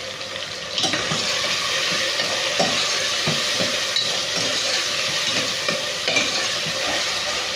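Steady frying hiss fills the pan of tomatoes and curry leaves, with soft rhythmic scraping as the contents are stirred, close and fairly loud.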